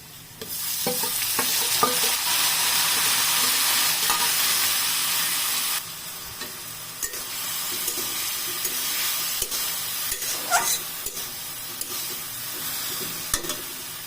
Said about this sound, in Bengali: পেঁয়াজ আর রসুনের কালার ব্রাউন হয়ে আসলে শাকগুলো দিয়ে দেবো এখন শাকগুলো দিয়ে দিচ্ছি